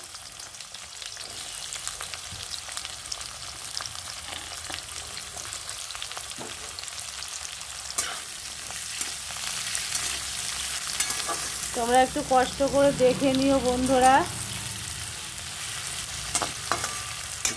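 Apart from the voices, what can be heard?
onion and potato frying in a pan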